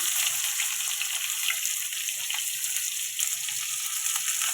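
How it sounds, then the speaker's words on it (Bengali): Sliced onions frying in hot oil in a kadai with a bay leaf, giving a steady, close, hissing sizzle with faint crackles and occasional stirring, no voices. "পেঁয়াজগুলো একটু লাল পেঁয়াজগুলো একটু লাল করে ভেজে নেবো।"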